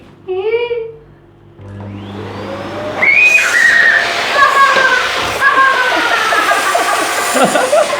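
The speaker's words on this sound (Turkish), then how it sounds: "Şimdi ben çöp başını içine gireceğim ve süpürge de beni çekecek mi göreceğiz." A household vacuum cleaner switched on to suck a person inside a trash bag starts up with a rising whine and then runs loud and steady. Talk and squeaky bag noises are heard over it.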